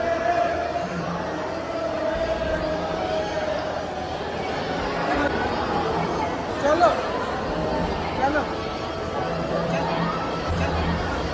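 Inside a crowded Hindu temple, a steady murmur of many voices and shuffling fills the space, with someone talking over the babble close by.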